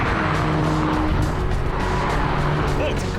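A 2021 VW Golf R corners and accelerates hard, giving a continuous loud engine drone with rising tones and some tire noise, heard up close.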